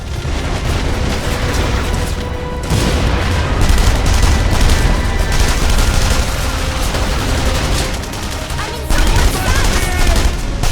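Sustained gunfire and explosions from The Saboteur video game battle, dense bursts and booms rolling continuously at loud level with a voice shouting orders amid the chaos.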